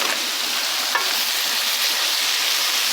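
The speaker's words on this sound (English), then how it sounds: "Stir fry a bit." Golden bihon rice noodles stir-fried with celery and Chinese cabbage give a steady, close sizzle with soft stirring scrapes throughout, no voices.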